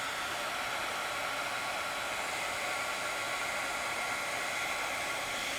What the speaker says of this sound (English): I'm going to use this heat gun to just shrink this real quick